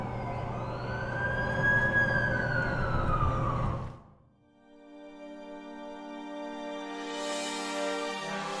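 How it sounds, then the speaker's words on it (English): An ambulance siren in The Amazing Spider-Man 2 video game wails as the vehicle arrives, then gives way to a quieter steady tone with faint engine noise underneath. "That's the ambulance I called."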